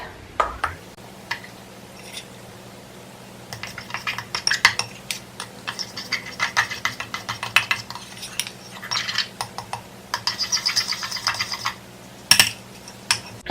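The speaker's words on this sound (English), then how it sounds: "So then I'll just mix it up." A spoon scrapes and clinks against a bowl while protein brownie batter made with coconut flour is mixed, a close, steady run of light taps and scrapes with brief pauses and a sharper clink near the end.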